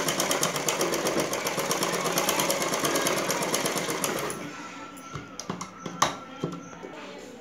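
A sewing machine stitches around a blouse fabric piece in rapid, steady mechanical chatter that runs loudly for about four seconds, then stops and leaves a few scattered handling clicks and knocks.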